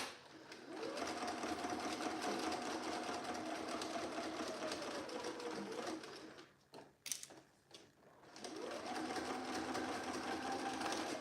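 A sewing machine stitches the neckline of a jacket in a long steady run, pausing briefly before starting again, loud and close with a constant mechanical whir.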